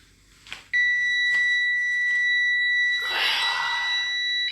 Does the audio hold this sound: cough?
no